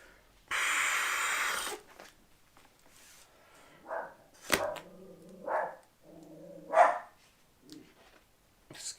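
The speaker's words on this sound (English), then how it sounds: "that's the dog barking" A dog barks a few times indoors, separate sharp woofs spaced out after a long breathy blowing sound, heard close and fairly loud.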